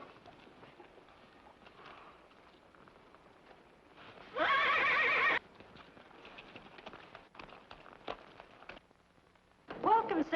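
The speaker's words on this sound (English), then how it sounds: "Where can I stable my horses?" Horses at a Western frontier inn whinny loudly in one clear burst midway, with a second neigh near the end, over faint hoof clip-clop and background movement.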